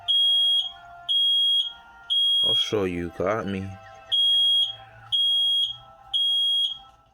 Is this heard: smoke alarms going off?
yes